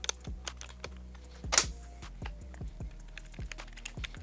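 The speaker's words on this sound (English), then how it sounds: "We're gonna grab a 14mm open-ended wrench and remove this at this time." A 14mm open-ended wrench works a turn signal nut on a 2023+ Honda XR150L: light metallic clicks and taps in an uneven series, close by and fairly quiet, with one brighter clink midway.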